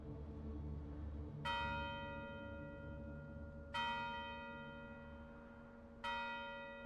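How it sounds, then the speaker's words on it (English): A church bell in the video game Siege Survival: Gloria Victis tolls three times, each strike ringing out and slowly fading over a low rumbling background. "Oh, it's the old bell ringing."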